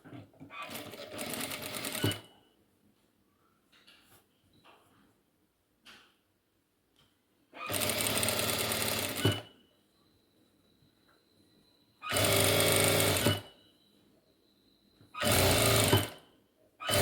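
A sewing machine stitches a sari blouse piece in several separate loud bursts of rapid mechanical whirring, each lasting one to two seconds, with quiet gaps in between.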